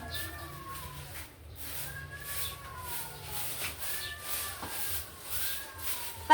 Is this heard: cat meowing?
yes